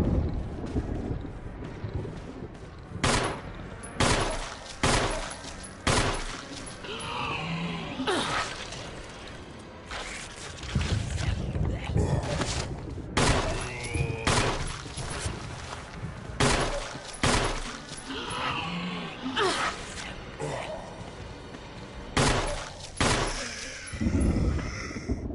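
Gunfire in Resident Evil 1 inside Spencer's mansion, with loud shots booming in irregular clusters and game sounds and speech between bursts.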